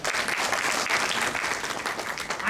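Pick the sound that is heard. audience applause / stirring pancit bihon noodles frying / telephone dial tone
audience applause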